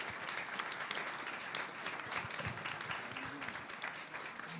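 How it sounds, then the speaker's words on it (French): Audience at an evening talk event applauding steadily, a dense, sustained clapping wash at moderate distance with no pauses. "vous pouvez applaudir"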